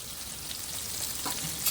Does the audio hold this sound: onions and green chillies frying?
yes